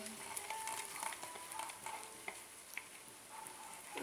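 Slime mixed with shaving cream being stirred in a container, giving soft, quiet, wet squishing and sticky dabbing sounds in a steady rhythm with no voices.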